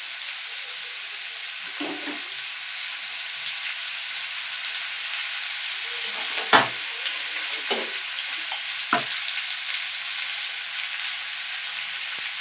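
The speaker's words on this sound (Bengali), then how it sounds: "এটাকে ভালো করে কষিয়ে নেব।" Food frying in a pan while being stirred and worked over heat: a steady sizzle runs throughout, with a handful of louder scraping stirs dotted across it, close by and with no talking.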